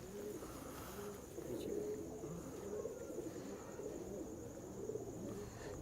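Pigeons belonging to a pigeon keeper, Ustad Sarfaraz Sufi of Wapda Town, Lahore, coo softly in a low steady murmur over a continuous bed of background noise, with no clear talk.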